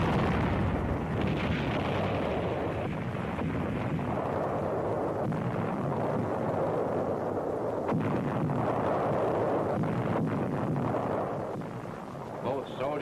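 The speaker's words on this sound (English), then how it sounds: "American guns massed in the university yard fire against enemy artillery positions." American artillery guns massed in a Manila university yard during WWII fire heavy, booming rounds that roll in continuously, with a newsreel narrator talking over the steady thunder.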